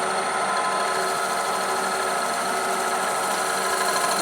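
A woodturning gouge shaves the inside of a naturally pierced wooden bowl on a lathe, giving a steady, continuous whirring hiss with the motor hum underneath, loud and unbroken with no talking.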